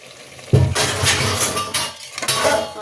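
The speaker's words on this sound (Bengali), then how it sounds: "কড়াটা রাখলাম তো এই জন্য আওয়াজ হলো" A wok (kadai) used for mutton curry with fried potatoes is set down with a loud metallic clatter, followed by a couple of seconds of scraping and rattling pan noise, close and alone without talk.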